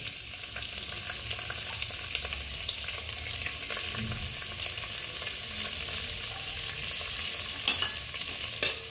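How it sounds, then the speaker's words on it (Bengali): Cashews and raisins stirred in hot ghee give off a steady, close sizzle, with soft scraping from the stirring and a couple of sharper clinks near the end. "কাজু কিশমিশটা একটু নাড়াচাড়া করব, হালকা লালচে ভাব হবে।"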